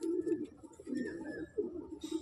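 An Andhra Chennai breed pigeon gives soft, low coos in short repeated phrases, close and fairly quiet against a still background.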